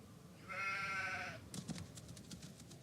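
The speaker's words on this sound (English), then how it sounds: "A sheep! It's a sheepy!" A single drawn-out sheep bleat in the Nancy Drew: Haunting of Castle Malloy video game, about a second long and clear, followed by faint clattering in-game ambience.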